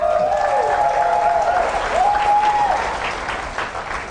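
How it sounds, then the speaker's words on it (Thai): An audience claps for a guest at a Thai talk, steady applause filling the room while a voice rises and falls over it. "ปรบมือท่านด้วยค่ะ"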